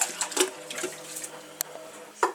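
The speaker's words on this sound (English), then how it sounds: "Nice hot soapy water." Hot soapy water runs into a kitchen sink in short irregular splashes and trickles, fairly quiet and close, with brief sharper spurts between softer flowing stretches.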